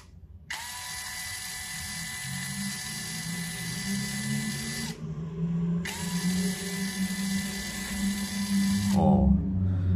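A Mollar CD12300 12V cordless drill driver spins at full trigger in two long bursts of a high, steady motor whine, separated by a short pause, with a low background hum and a brief clunk at the end.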